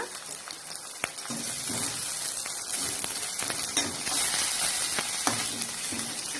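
Chopped green chilies and curry leaves hitting hot oil in a pan, giving a steady close hiss and crackle of sizzling with occasional sharper pops and light stirring, alone without speech.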